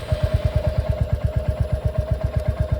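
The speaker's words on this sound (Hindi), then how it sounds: "इंजन स्टार्ट कर लेता हूँ।" A modified Royal Enfield Hunter 350 motorcycle idles close by with a steady, even thumping exhaust beat and a faint mechanical clatter, no voices over it.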